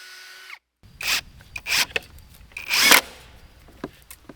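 Several short bursts of a power drill drilling mounting holes for a retractable hose reel, each under a second, in close succession with quiet pauses and small clanks between them.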